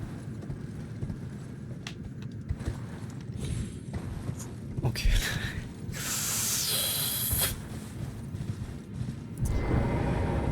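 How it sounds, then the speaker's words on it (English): A horse gallops across open ground in a fantasy action game, its hooves thudding in a quick rhythm amid clashing effects and a loud hissing burst, with someone speaking briefly. "Let's get off the horse before it gets us killed."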